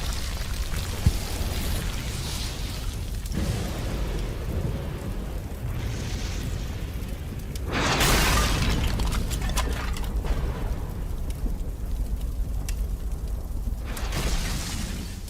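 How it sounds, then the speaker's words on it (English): Volcanic ash, dust, lapilli and foamy pumice pour down on Pompeii in a continuous heavy roar with deep rumbling, swelling louder midway like a dense downpour. "volcanic ash, dust, lapilli and foamy pieces of pumice poured down on Pompeii"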